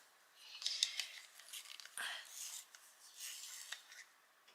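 A coloured pencil is turned in a small sharpener, giving quiet, close scraping and shaving bursts in short irregular spurts, with no voices.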